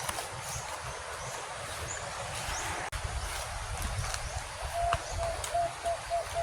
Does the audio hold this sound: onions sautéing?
no